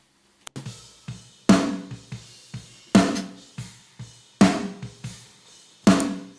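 Raw, unprocessed top-mic snare from the Getgood Drums Modern & Massive library, hit in a looped pattern of sharp, close strikes with bright ringing tails and softer ghost notes between the main hits, with no voices.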